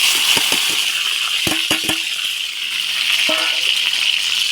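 Chopped onion sizzles steadily in hot refined oil, a bright constant frying hiss with several sharp clinks of a utensil against the pan layered on top.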